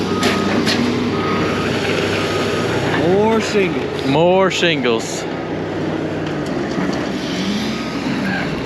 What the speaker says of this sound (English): That truck is breathing freely.